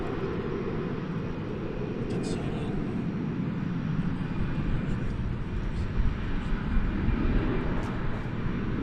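A PSA Airlines jet at DFW Airport at night, its nose painted with a smile and a black snoot, gives off a steady, broad low roar. The sound is fairly loud and constant, with voices faintly audible.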